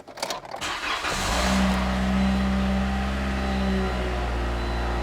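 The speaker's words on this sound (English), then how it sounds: "So the car sounds really good." A salvage car's engine starts and settles into a steady idle, with the starter crank in the first second giving way to a continuous, even engine hum close to the microphone.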